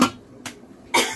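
An elderly person coughs from eating spicy Shin Ramyun, three short sharp coughs spaced apart, close and fairly loud, with no talk.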